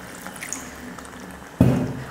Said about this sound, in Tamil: ஈரல் வந்து முங்குற அளவுக்கு மட்டும் தண்ணி ஊற்றிக்கிட்டால் போதும்